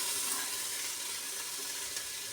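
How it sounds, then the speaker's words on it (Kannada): Grated coconut and onion fry in a pan with a soft, even sizzle that hisses steadily throughout, fairly quiet and with no voices. "ಕಾಯಿ ತುರಿ, ಈರುಳ್ಳಿ ಅಷ್ಟನ್ನ ಫಸ್ಟ್ ಫ್ರೈ ಮಾಡ್ತಿದ್ದೀನಿ"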